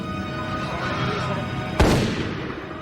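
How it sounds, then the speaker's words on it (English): A single loud gunshot cracks nearby, a sharp broadband burst that rings out and fades over background noise. "God, that was a gunshot."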